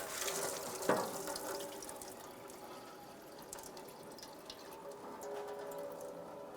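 Coolant drains from a detached radiator hose on a 1995-2001 Ford Explorer into a bucket below, a faint, continuous trickle and splash with a slightly louder gush near the start.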